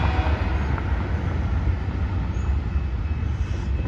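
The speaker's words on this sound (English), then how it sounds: "There's your train there, Lynn, if you're watching." A train rumbles past with a steady low roar and rattling, loud and continuous throughout.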